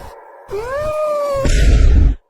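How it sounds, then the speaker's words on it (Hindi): A single drawn-out, rising and falling meow, loud and close, ending in a rougher, noisier cry before cutting off. "अब ये बिल्ली क्यों चिल्लाने लगी?"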